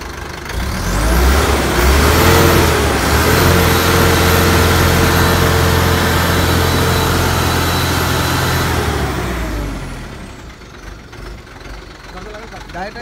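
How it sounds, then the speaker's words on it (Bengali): An Ecomet 1212 L truck engine runs loud and close with a steady, rough diesel drone and a brief rise in revs near the start. It holds for most of the stretch, then cuts off, leaving quieter background noise. "দেখেন গাড়িটা স্টার্ট অবস্থায় আছে এখন সাউন্ডটা আপনারা নিশ্চয় শুনতে পাচ্ছেন"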